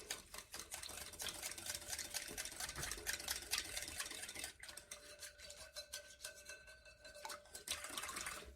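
A whisk beating herbal-infused oil into a muscle salve, giving fast, steady clicking and scraping against the bowl. The sound is continuous and close for the whole stretch, with no voices.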